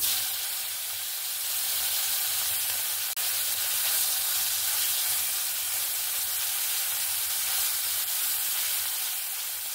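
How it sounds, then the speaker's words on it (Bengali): Mandeli fish frying lightly in a pan, an even, loud bright hiss and sizzle that holds steady from start to finish with no talking. "বাদ বাকি মাছগুলো আমি এরকম ভাবে ভেজে নেব।"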